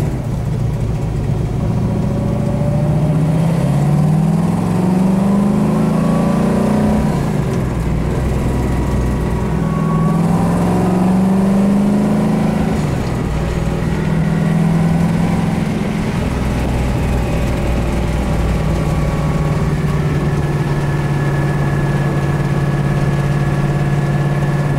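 Deep engine of a 1967 Ford Mustang GT500 Eleanor with side pipes, a steady loud rumble heard from inside the cabin with rising and falling revs as it drives, no talk over it.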